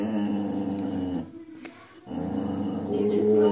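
A boxer dog makes drawn-out, moaning growl-like vocal sounds, loud and close, broken by a short pause before resuming.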